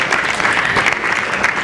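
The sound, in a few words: applause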